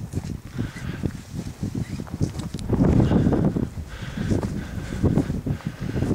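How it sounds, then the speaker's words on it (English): Steady gusting wind roars across an open gravel parking lot beside a highway near mountain hot springs, rising and falling in broad surges, with faint rustling underneath. "It's a little windy here"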